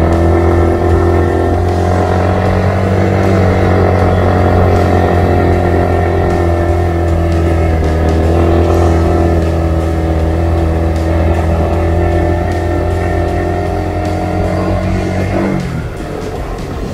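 A motorcycle engine drones steadily and loudly as the rider shifts into second gear on the road to Puncak Sempur, Karawang, with the pitch dropping near the end as the gear changes.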